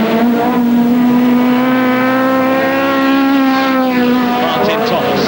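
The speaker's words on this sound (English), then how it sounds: "as they come round the right-hander again at South Tower, into the top straight again to complete lap 12 and start lap 13" 1971 saloon race cars, a Vauxhall Viva GT and a Chevrolet, race through a right-hander onto the top straight, a loud, sustained engine howl that climbs slightly in pitch as the cars pass, with race commentary over it.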